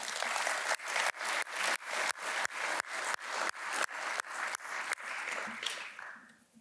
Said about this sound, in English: let's please have a round of applause for John Hammergren